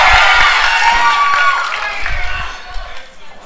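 A crowd at an indoor independent wrestling show cheering and shouting, loud and close at first and then easing off, with voices talking over it.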